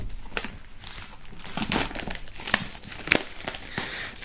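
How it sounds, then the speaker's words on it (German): Plastic shrink wrap foil is cut and peeled off a boxed music set, producing close, loud crinkling and rustling with sharp crackles and tearing bursts throughout, with no one speaking. "Bevor wir starten, werden wir die ganze Geschichte hier mal aus der Folie holen"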